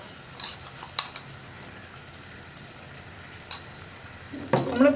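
Spice mix is stirred into a mullet fish curry simmering in a pan: soft sizzling under a few sharp clinks of a spoon against the pan, with louder scraping and clatter near the end.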